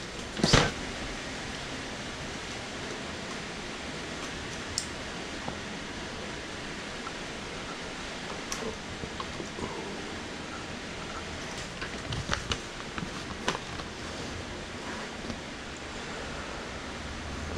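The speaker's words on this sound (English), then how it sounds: "Apologize about any rain noise that you're going to be hearing through the video." Rain falling outdoors during a Honda Rebel 500 gauge relocation makes a steady, even hiss with a few faint ticks and knocks scattered throughout.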